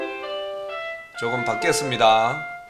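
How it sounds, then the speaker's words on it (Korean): An electronic school bell chime sounds at a high school in the opening second, a few sustained tonal notes, before a voice begins talking over a fading tone. "지금 종소리 들리죠?"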